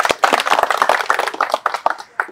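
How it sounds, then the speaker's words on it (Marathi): A crowd at a talk breaks into a burst of enthusiastic applause. The clapping is dense, loud and close, with no voices over it. "सरांसाठी जोरदार टाळ्या."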